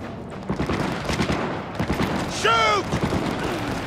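Gunfire from the video game Cyberpunk 2077 crackles in short bursts through a busy combat mix, with shouting voices over it and a sharp, whistling tonal effect rising briefly in the middle.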